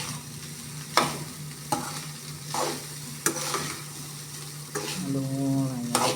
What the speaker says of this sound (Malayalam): നല്ലോണം ഇളക്കി കൊടുക്കുക